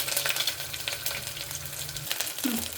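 Curry leaves and raw ginger-garlic paste frying in hot oil in a pan, giving a close, steady sizzle with a few brief stirring scrapes over a short stretch.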